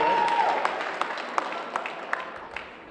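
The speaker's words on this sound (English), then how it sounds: "Next up, our Frosty, I do believe. Round of applause." Moderate applause from a high school holiday assembly audience, a steady wash of clapping with a few sharper individual claps standing out, slowly fading toward the end.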